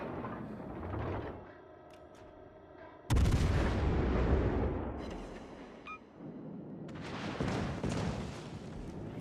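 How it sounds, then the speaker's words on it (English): Warship rear turret guns firing at mines in a naval video game, a heavy booming blast followed by rumbling, with lighter mechanical clatter before it and more rumbling after. "I think they used their rear turret to fire at the mines up there"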